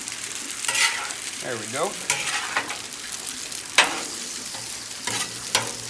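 Mushrooms sauté in butter in a pan, a continuous sizzle broken by repeated stirring scrapes and clacks; a voice speaks briefly.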